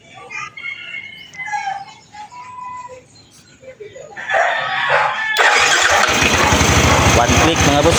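Right after an oil change, a scooter engine coughs to life and settles into a loud, close, steady idle. People talk before it starts.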